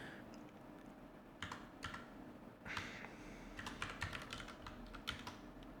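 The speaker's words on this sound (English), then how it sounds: "I'm going to type and I'm going to explain what each of these words mean." Computer keyboard typing while writing JavaScript code in the Cables.gl editor, irregular bursts of clicky keystrokes close to the mic over a quiet room hum, no talking.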